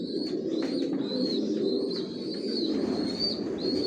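Adult racing pigeons in a loft coo in low, murmuring calls that rise and fall steadily under a thin, higher twittering, close and continuous with no voices.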